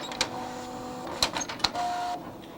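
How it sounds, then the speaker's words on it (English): An HP printer prints a page at close range, giving a soft whirring hum punctuated by three sharp clicks and a brief motor whine. "the HP printer is printing it out right now"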